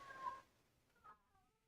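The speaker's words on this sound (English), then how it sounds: "if you could hear my audible cat meowing" A faint, short meow followed by a softer second cry in a quiet room.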